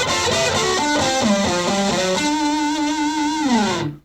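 Fender electric guitar played through an amplifier's built-in push-button distortion, a distorted riff of chugging, stepped chords and notes that ends on a sustained held chord before cutting off abruptly, loud and alone.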